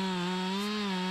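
Chainsaw cutting into a tree, a loud, steady buzzing engine whine held continuously at close range with no voices.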